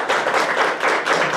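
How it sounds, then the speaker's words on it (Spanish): A short burst of clapping from a church congregation, dense and loud, lasting just over a second with no voices. "Dale un aplauso a Jesús que nos ayuda"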